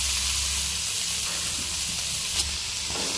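Chopped onion sizzling steadily in hot oil in a pan for a mushroom gravy, a continuous close hiss with a brief louder crackle near the end and no talk.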